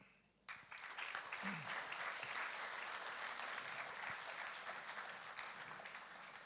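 Audience applause at a Tamil literary society event in England bursts in after a brief pause and holds as dense, steady clapping throughout, slightly thinning at the end.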